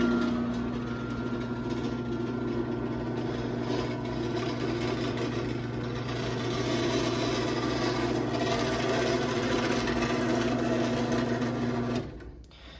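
A BuildMark 3255BM chain-drive garage door opener runs with a steady motor hum and rattling chain and trolley noise, continuous and fairly close for about twelve seconds, then stops abruptly; no one speaks.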